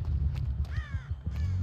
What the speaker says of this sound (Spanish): Uy, ese cuervo.